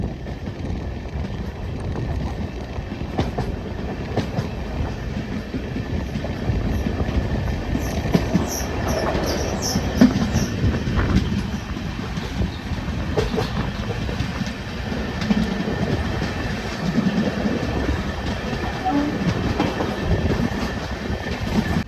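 Punalur–Madurai Express with LHB coaches running on rails near Paravur, a loud steady rumble with rhythmic wheel clatter and brief high squeals, heard from on board.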